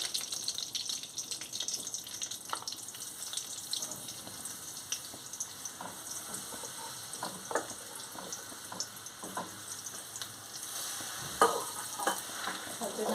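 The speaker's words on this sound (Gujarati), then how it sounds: "આપણે ધીમા તાપે શેકી લઈશું આ રીતના પાંચ મિનિટ લગી તમે કરશો એટલે આપણે ખજૂર શેકાઈ જશે" Dates roasting in ghee over low heat while being stirred, a quiet, soft sizzle with scattered scraping and tapping of the spoon, faint and close with no talk.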